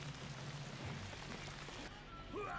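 Steady, dense rain from the Warcraft III game, hissing evenly throughout with no talk.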